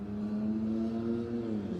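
A passing car with a loud exhaust drones past at a steady engine note, a smooth sustained rumble that swells slightly and then eases, with no voices.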